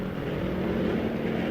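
Military aircraft in historical footage: a steady, dense propeller-like drone held throughout a short moment, continuous and moderately loud with no talk over it.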